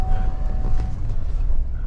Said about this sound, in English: That beeping's a seatbelt warning